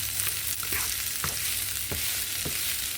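Onions cooking down in a pan for grasshopper tacos, a steady close sizzle with a few soft scrapes as they are stirred, no voices.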